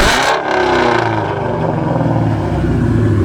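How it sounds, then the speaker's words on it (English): A loud Ford Mustang GT engine revs hard, its roar rising and holding at a high pitch before easing slightly, close by. "give it a couple revs."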